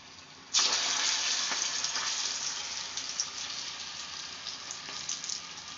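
Small balls of elephant foot yam mash drop into hot oil and burst into a loud, steady sizzle that starts abruptly and keeps bubbling evenly, close by, with no talk over it.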